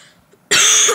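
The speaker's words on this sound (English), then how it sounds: "number one, I have coughs" A single loud cough bursts out halfway through, preceded by near silence, its harsh noisy burst lasting about half a second.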